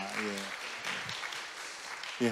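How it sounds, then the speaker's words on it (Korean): Sunday church congregation gives brief applause to welcome a visiting relative, soft scattered clapping under a speaking voice that comes and goes. "예, 박수로 환영하겠습니다."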